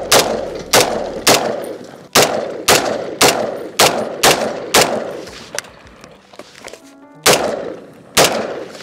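A battle rifle fires repeated single shots into cinder blocks outdoors, sharp loud cracks arriving in irregular pairs and clusters, each with a brief echoing decay and a short pause mid-string before two final shots.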